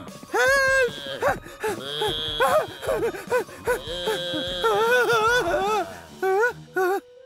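A cartoon cow moos repeatedly in drawn-out, wavering calls, loud and close, with cartoon dialogue and voices around it.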